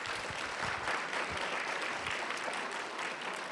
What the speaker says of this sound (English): Please join me in applauding their excellent talks today.